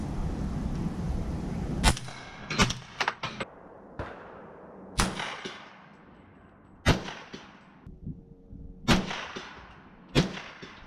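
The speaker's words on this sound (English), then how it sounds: "throw a suppressor on a 300 Blackout with subsonics, it's a ton of fun. It is super quiet." Suppressed 300 Blackout AR-15 rifle firing subsonic rounds at a range, a series of about eight sharp, muffled cracks at irregular intervals, each with a quick decaying tail over a low rumbling background.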